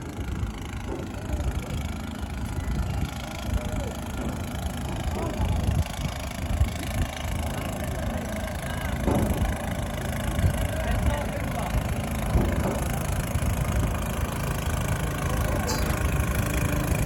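A boat engine runs steadily on the water near Mirpur by the Rathoa Haryam bridge, a continuous mid-pitched drone under ongoing talk and background noise throughout.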